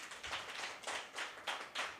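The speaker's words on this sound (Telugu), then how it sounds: "చప్పట్లు కొట్టండి గట్టిగా" A church congregation claps hands together at a pastor's prompting, with several broad bursts of clapping coming in a loose rhythm and sounding moderately loud throughout.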